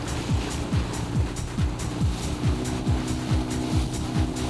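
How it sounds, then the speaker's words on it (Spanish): A rented motorboat approaching on the water off Vizcaya and speeding up, its engine a steady, fairly loud drone with a regular pulsing throb repeating about twice a second throughout. "Mira el barco que viene por aquel lado."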